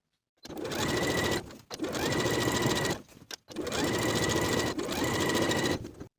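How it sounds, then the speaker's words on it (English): Domestic sewing machine running steadily as it stitches the hem of a denim skirt, three long close bursts of rapid mechanical whirring separated by brief pauses. "Now I'll sew along my finishing stitches to complete the hem."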